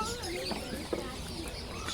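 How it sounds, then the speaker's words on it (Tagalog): Chickens and chicks at an animal market in a desert area, cheeping and clucking faintly amid a busy crowd, with a few brief sharper calls standing out from steady background noise. "Ito mayroong ditong mga manok na sisiw."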